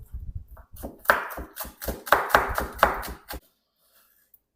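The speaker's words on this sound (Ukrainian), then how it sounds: "Дрібненько нарізаю зелену цибульку." A knife chops green onion quickly on a cutting board, a rapid run of sharp taps that stops abruptly, leaving near silence.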